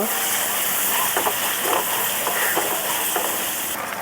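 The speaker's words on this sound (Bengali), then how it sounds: "এখন মশলাগুলোকে ভালো করে কষিয়ে নেব।" Spices sizzle and fry in hot oil for Punjabi-style rajma, a loud, continuous crackle close up, with a few soft scraping stirs breaking through.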